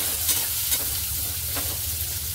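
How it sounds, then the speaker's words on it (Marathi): Taro root (arbi) pieces frying in hot oil in a pan, a dense continuous close sizzle with a few faint crackles and stirring touches, no voices. "तेल गरम झाले, त्याच्यामध्ये ही अरबी टाकूया आपण सगळी। आणि या अरबीला मस्त असं थोडासा कलर येईपर्यंत फ्राय करून घ्यायला।"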